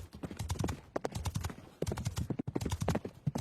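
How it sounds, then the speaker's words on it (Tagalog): Horse hooves clip-clopping at a gallop in a rapid, even rhythm of close, distinct beats, carrying on steadily throughout. "Mabilis kabayo niya."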